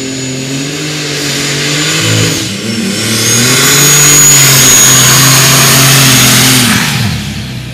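Pulling tractor at the Edewecht 2023 Tractor Pulling Euro Cup, the engine roaring loud and close during its run, building in power and holding a heavy sustained growl before dropping off at the end.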